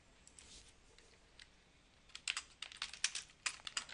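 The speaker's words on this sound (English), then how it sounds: "All you have to do is type in the name of the item" Typing on a computer keyboard while entering a product name in inventory software: a faint tap or two early, then a quick run of crisp, close key clicks in uneven bursts through the second half.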